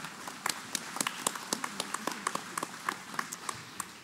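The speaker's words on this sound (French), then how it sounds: "Ah oui, on peut l'applaudir, c'est vrai" An audience claps at a talk event, with scattered, fairly sparse hand claps at an uneven rhythm, heard at moderate distance and rather thin, as if from a small crowd.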